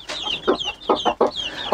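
A broody hen in a coop gives repeated agitated clucks and a drawn-out growling 'gurk' call, close and loud, in quick irregular bursts.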